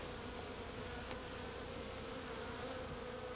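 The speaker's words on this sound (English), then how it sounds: "Come on, you little bees." Bees buzz in a steady, faint drone, with no voices, the hum holding evenly throughout.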